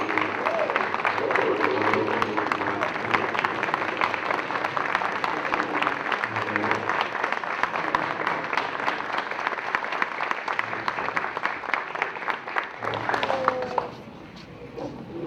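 Sustained applause from an audience honoring teachers of the year at an awards ceremony, steady dense clapping for about fourteen seconds before it abruptly drops away, with faint voices underneath.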